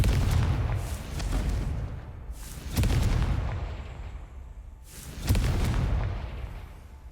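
A Confringo fire spell exploding in Hogwarts Legacy: three heavy, booming blasts spaced a couple of seconds apart, each with a rumbling tail that fades before the next hit.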